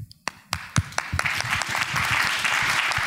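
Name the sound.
audience applause for conference panelists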